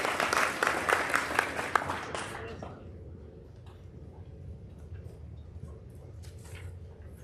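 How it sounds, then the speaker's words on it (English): An audience applauding students at a junior high honors program, a burst of hand clapping lasting about two and a half seconds that quickly fades into a quiet room. "let's give them a round of applause"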